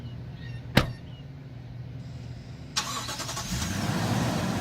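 A 2017 Lexus LX570 with a 5.7-litre V8 fires up close by after a sharp door thud, its engine settling into a loud, steady broadband roar.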